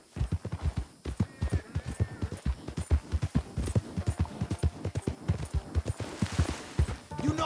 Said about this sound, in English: You hear those horses?